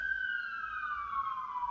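A police car siren passes at a distance, one steady wailing tone gliding slowly downward as it goes by, faint and heard alone without any talk.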